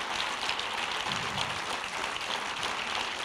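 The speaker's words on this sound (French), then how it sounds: "Je pense qu'on peut applaudir une nouvelle fois nos deux intervenants." A forum audience at a plenary session applauds two speakers, with dense, even clapping that carries on at a steady level from start to finish.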